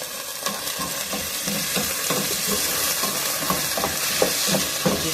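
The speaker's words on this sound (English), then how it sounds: "So that is the yam being added." Yam pieces dropped into a hot pot for Ital stew, a continuous loud sizzle with repeated scraping stirs and soft knocks, close by with no talking.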